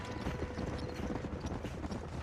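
Horse hooves galloping in the Western video game Red Dead Redemption, a fast continuous clip-clop rhythm, fairly quiet and steady throughout.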